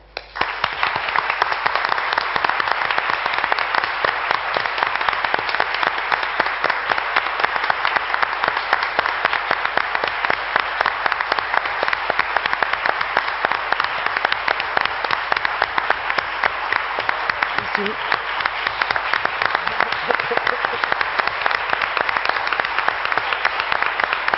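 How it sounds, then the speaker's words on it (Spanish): Sustained, dense applause for Julián at a public tribute, loud and steady throughout, with no talk over it. "Te vamos a dar un aplauso para empezar."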